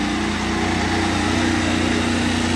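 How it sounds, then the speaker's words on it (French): Mercedes hypercar engine in Monaco running steadily near and loud, a continuous buzzy engine drone with slight throttle pulsing and no distinct separate blips. "Il met des petits coups de gaz."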